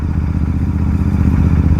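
A Royal Enfield GT 650 motorcycle fitted with a Red Rooster exhaust rides at low RPM, producing a close, steady throbbing exhaust rumble with slight clatter.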